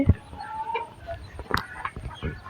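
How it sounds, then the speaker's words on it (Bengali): Chickens cluck in a household courtyard, with scattered short, close clucks and calls and faint voices in the background. "এই যে এগুলা হচ্ছে মুরগি"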